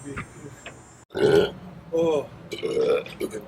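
Three loud, drawn-out belches in a row, each a deep croaking eructation separated by short pauses, with light chatter and background voices around them.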